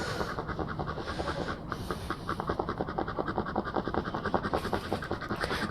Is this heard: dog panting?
yes